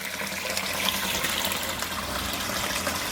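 Water splatters steadily in a garden pond filter box outdoors in winter, a continuous close splashing wash with no pauses and no voices.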